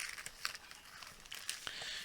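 Plastic bag packaging around a mail-order parcel is pulled open, giving quiet close crinkling and rustling with a few sharper crackles, alone without talk.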